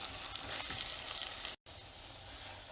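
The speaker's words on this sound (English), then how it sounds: "we're all stirred in, it's sizzling" Soy curls sizzle and crackle steadily in a hot pan, close up, with a brief dropout partway through.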